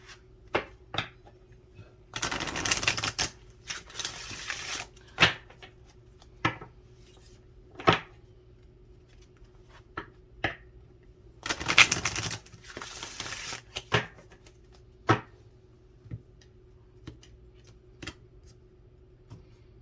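Oracle cards being shuffled by hand: repeated sharp taps and two longer riffling bursts, close and fairly quiet, with soft clicks between them and no talk.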